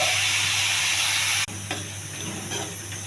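Spinach dropped into hot tempering oil with garlic, cumin, mustard seeds and dried red chillies: a loud steady sizzle and hiss that breaks off abruptly, leaving softer crackling and bubbling.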